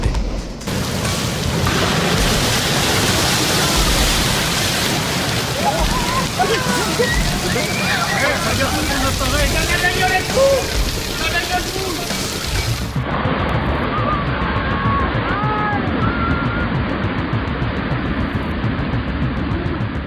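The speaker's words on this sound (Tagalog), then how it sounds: "biglang rumagasa ang putik at baha na mabilis na bumalot sa komunidad" A flood of mud and water surges through a community as a dense, continuous roar of rushing water and heavy downpour, with a voice faintly audible over it and the torrent continuing to the end.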